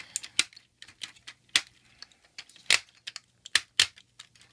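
Ratcheting joints on a Combiner Wars Constructicon Transformers figure clicking as it is transformed into vehicle mode, a quick irregular series of sharp plastic clicks, near and clear.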